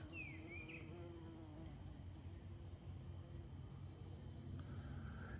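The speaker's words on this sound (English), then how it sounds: "I got bees all over." Bees buzz faintly in an outdoor tomato garden, a low steady drone with occasional higher whines drifting past, over a constant background hum.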